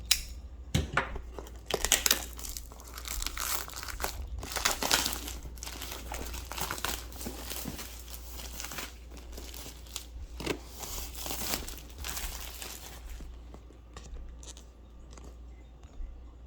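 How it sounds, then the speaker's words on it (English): Plastic lining of a toy puppet-theatre box being cut and peeled away by hand without a blade, giving close, continuous crinkling and tearing with scattered sharp crackles that settle into quieter rustling toward the end. "I'm going to start by carefully cutting away at the plastic lining"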